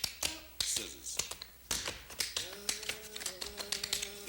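Quick percussive taps and scuffs of tap shoes in a rhythmic scissors-step pattern, with a sustained tone entering partway through.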